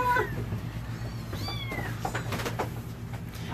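Kittens in a shelter's kitten trailer give several short, high meows, one near the start and a couple more about a second later, moderately close over a low background hum, with a few light knocks afterward.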